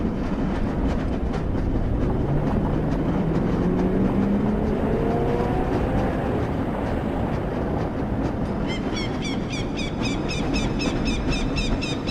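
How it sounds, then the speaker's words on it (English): A lever-controlled train in the Black Mesa video game rolling steadily with a constant heavy rumble and faint rising whine, rhythmic clicking joining near the end. "This lever-controlled train will transport you to a location where your training associates are waiting for you."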